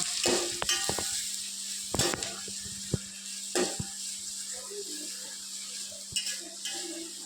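Sliced onions fry and sizzle in a pan with a continuous hiss, broken by sharp clinks and scrapes of a utensil stirring against the metal; no one speaks.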